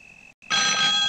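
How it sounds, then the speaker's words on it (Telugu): A telephone ringing at night in a comedy film scene: a brief electronic tone, a short gap, then a loud, bright ring that continues to the end. "ఈ టైంలో ఫోన్ మోగుతుందంటే ఎవరితో ఎవరి కోసం ఫోన్ చేసి ఉంటుంది."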